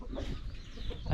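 Chickens cluck briefly around a rural farmhouse among ducks, dogs and pigs, a short soft burst of fowl sounds at moderate distance with no voices.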